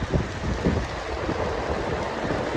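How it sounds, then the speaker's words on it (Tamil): Steady rain pours outside a newly built house, a dense continuous hiss with low rumbling underneath and no voices. "அதுக்குள்ளே மழை வந்துச்சு."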